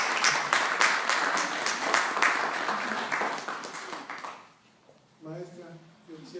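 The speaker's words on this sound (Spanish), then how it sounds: "vamos a darles otro aplauso a los niños." A church audience applauds children at a kids' event, loud, busy clapping with a quick beat that fades out after about four seconds, followed by a voice speaking.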